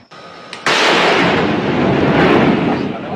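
A military artillery cannon fires once, a loud sharp blast followed by a long rolling roar and reverberation that fills the remaining seconds.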